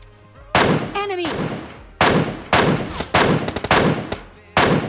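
An MK14 rifle fires in PUBG Mobile Lite, sharp and loud, in about six separate bursts of single shots and rapid pairs, with a brief whistling tone early on.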